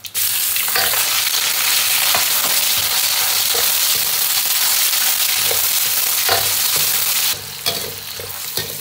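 Pork belly hitting hot oil in a wok with Sichuan peppercorns, chilies, star anise and green peppers: a loud, continuous crackling sizzle with stirring scrapes, dipping slightly near the end, close and without speech.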